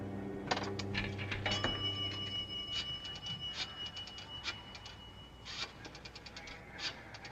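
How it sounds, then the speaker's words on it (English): A nickel drops into a payphone slot, giving a few faint metallic clinks and clicks that sound a little mechanical, with no voices. "To get it, Sheila dropped a nickel in the slot."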